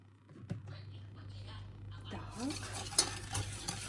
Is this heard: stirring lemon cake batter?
yes